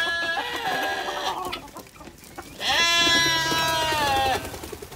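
Lambs bleat loudly and close as they are let out of their pen on a farm, with overlapping wavering cries in two main bursts, mixed with faint clucking of poultry.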